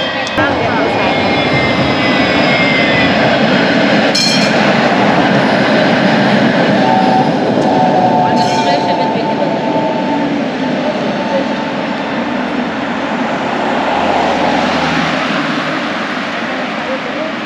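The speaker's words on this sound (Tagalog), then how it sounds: "Sunod-sunod ang train dito" Trains roll past one after another, a loud, constant rumbling roar with metallic squeals and clanks rising above it and people talking over the noise.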